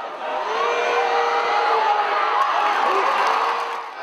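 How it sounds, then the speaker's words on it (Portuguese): A small but noisy crowd of Sport supporters at a women's football match, a steady wash of cheering and shouting voices held at constant loudness throughout, with no single voice standing out. "a pequena, mas barulhenta torcida do Sport fez o Leão despertar"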